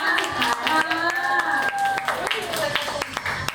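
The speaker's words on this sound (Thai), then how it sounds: "ค่ะปรบมือให้ปันหนึ่งก่อนนะคะ" Audience clapping at a fan meeting, with quick overlapping claps throughout, heard under someone talking over the top.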